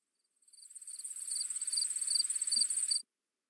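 Crickets chirp steadily in a night scene from a radio drama, a close, continuous high trill pulsing in quick regular bursts for about two and a half seconds before cutting off abruptly.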